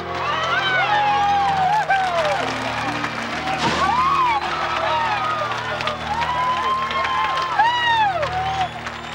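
A crowd cheers and claps steadily at a marine park as a captive orca gives birth, with whistling, excited voices and babble continuing throughout under a sustained roar of applause.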